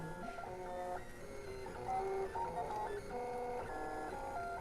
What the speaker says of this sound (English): this sounds like how 3D printers used to sound